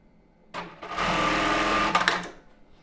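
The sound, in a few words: sewing machine stitching a strap on a tulle bra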